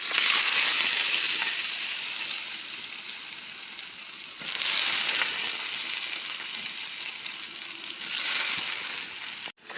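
Kalijira rice grits fry in a generous amount of hot oil, giving a loud, steady hiss and sizzle that swells afresh twice as more grits hit the pan, with no talking.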